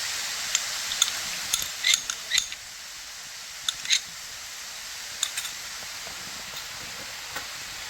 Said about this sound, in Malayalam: നമ്മുടെ അടിച്ചു വെച്ചിരിക്കുന്ന നമ്മുടെ ഈ മുട്ടയൊന്ന് ഒഴിച്ചു കൊടുക്കാം